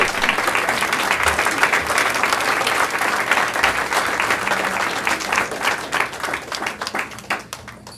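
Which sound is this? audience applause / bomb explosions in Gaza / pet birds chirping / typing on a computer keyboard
audience applause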